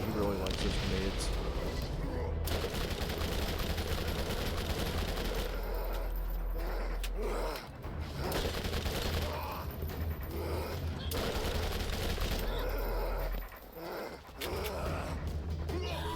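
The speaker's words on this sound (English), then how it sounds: "Oh god, he really likes those grenades." Gunfire and grenade blasts from a shooter game rage almost without pause, dense and loud, with heavy booming low end and two brief dips where the barrage drops out.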